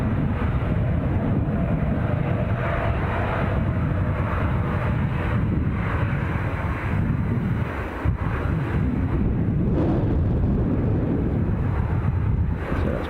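A Ryanair jet roars at Edinburgh Airport on a windy day, a loud, broad rumble blended with heavy wind buffeting the microphone, steady throughout with no voices.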